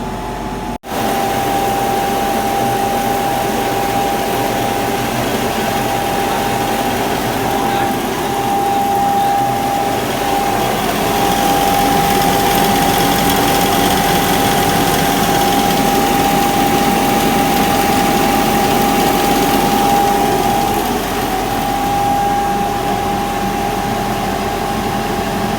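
A DC series motor runs steadily under load test with spring-balance loading, turning at about 2834 rpm, giving a continuous loud hum with a sustained whine throughout, with no talk.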